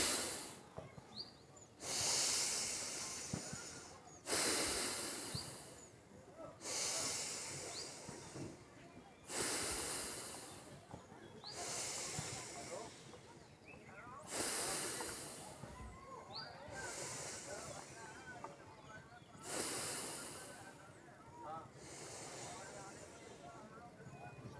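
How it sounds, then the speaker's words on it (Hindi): A person in a guided breathing exercise pushes air out hard through the nose in a series of about ten rhythmic, forceful hissing exhalations, each a second or two long, evenly spaced and close. "सारी साँस बाहर निकाल दीजिए"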